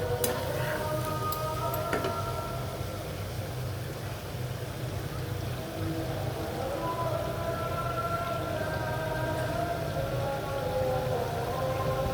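Chicken shawarma meat frying with a homemade paste in a pan, a steady, dense sizzle that runs throughout with faint kitchen tones above it.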